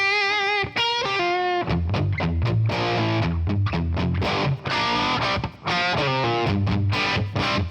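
An electric guitar plays through a ToneX capture of a Matchless Laurel Canyon amp, with loud, driven chords and single-note runs ringing out continuously and alone.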